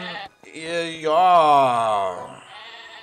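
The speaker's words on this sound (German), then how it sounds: "hier sind schon wieder so viele Schafe drinne" A sheep in the Craftopia game gives a long wavering bleat, loud and close, after a brief spoken word from a man.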